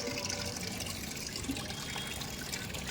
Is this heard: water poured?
yes